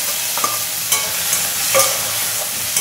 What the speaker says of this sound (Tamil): தக்காளி, பச்சை மிளகாய், கருவேப்பிலை இதெல்லாம் போட்டு வறுத்து எடுத்துக்கலாம்.